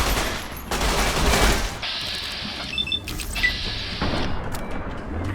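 Sustained gunfire in the video game Fallout New Vegas, dense bursts of shots in long sections broken by short gaps, fairly loud and up close, with no talking.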